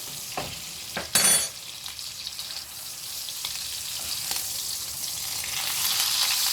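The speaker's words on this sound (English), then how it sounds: "tip this butter sauce on top of it. And then it will still cook the steak." Steak sizzles in a pan as butter sauce is tipped over it, a steady hiss of frying with a few clinks and scrapes early on, the sizzle swelling slightly toward the end.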